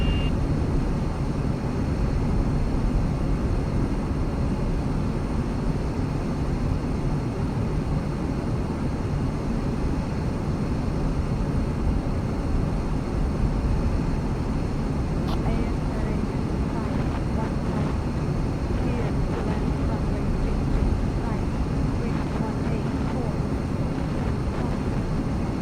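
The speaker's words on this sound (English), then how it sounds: "Cleared for takeoff runway 27, Air Arabia" An Air Arabia airliner takes off from runway 27, producing a steady, loud, broadband engine roar heard from inside the cabin throughout, with a faint thin tone above it.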